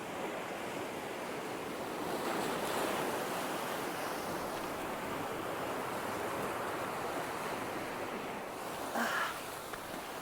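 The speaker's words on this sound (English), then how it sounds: "Oh, that wind. It's getting stronger and stronger." Strong wind by the sea at Seaton Sluice, a continuous loud roar and buffeting over the wash of surf, with a gust swelling near the end and no speech.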